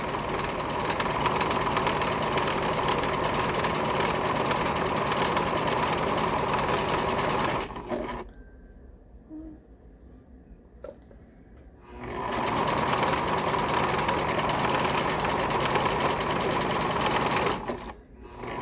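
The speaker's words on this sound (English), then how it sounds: "So now I'm going to stitch across." A sewing machine stitches across a zipper on a pillow, running loud and steady up close, stopping for a few seconds of near silence, then starting again for another long run.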